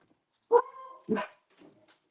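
A small dog gives a couple of short barks and yips close by, separated by brief pauses, with faint whimpering between.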